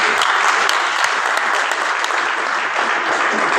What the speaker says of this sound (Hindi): तालियां बजाओ उमर के लिए।